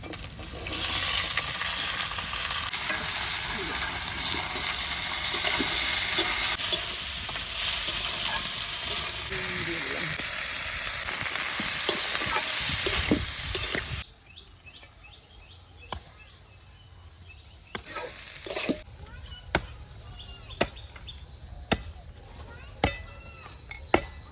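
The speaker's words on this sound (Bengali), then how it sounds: "পেঁয়াজ ভাজা হয়ে গেছে, এবার কাটা সবজিটা দিয়ে দেবো।" Busy frying hiss as chopped vegetables are added to fried onions in a wok, with scraping and stirring for most of the stretch, then a quieter pause broken by a few sharp clinks and taps.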